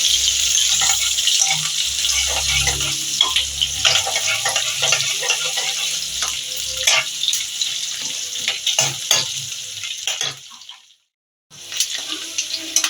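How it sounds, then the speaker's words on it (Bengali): Steady sizzling of onions frying in a pan for mutton keema, with scattered clinks and stirring scrapes, then a brief silence before the sizzle resumes. "পেঁয়াজটা একটু ভাজা ভাজা হয়ে গেছে"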